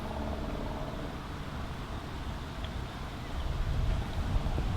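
Gusty wind on an outdoor disc golf course, a steady low rumble buffeting the microphone and swelling stronger toward the end, with no voices.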